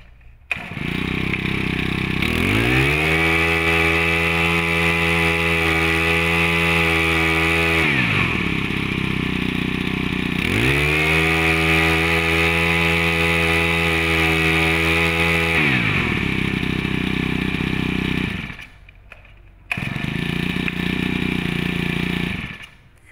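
A used Japanese chainsaw engine runs loudly and close by, revving up and settling twice before it cuts out briefly and then fires again.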